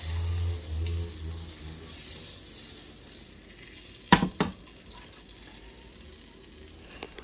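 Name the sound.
butter sizzling in a hot pan for cooking mushrooms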